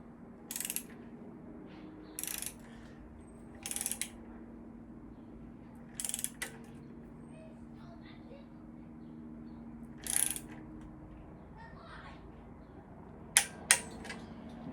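A socket wrench ratchets a nut off a stud during long block assembly of a CB Performance 2017cc engine, giving about six short bursts of crisp clicking separated by pauses over a low, steady background hum.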